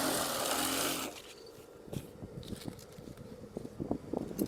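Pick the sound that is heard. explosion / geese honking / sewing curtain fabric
sewing curtain fabric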